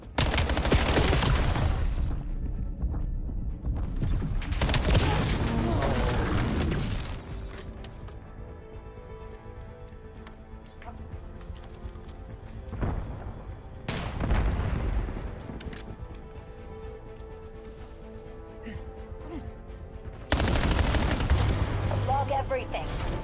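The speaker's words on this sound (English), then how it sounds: "Enemy sniper shooting." Bursts of gunfire in a video game match, including enemy sniper shots, come in loud clusters separated by quieter stretches of distant battle noise, with people talking over the action.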